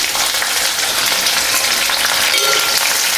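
Curry leaves crackle and hiss loudly in hot oil for a tamarind rice tempering, a dense, continuous sizzle up close with no talk.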